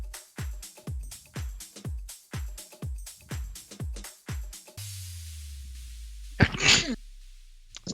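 A short burst of rhythmic thumping gives way to a quiet rumble, then a single loud sneeze bursts out near the end.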